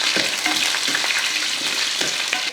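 Onions, shallots and curry leaves frying in hot oil with popped mustard seeds, a steady bright sizzle filling the whole stretch, close and loud, with a few scrapes of stirring and no talk.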